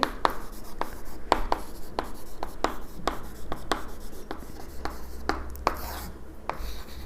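Pen writing opening balances by hand on paper in an accounting lesson, heard as close, quiet scratchy strokes in a quick irregular rhythm with short taps between them.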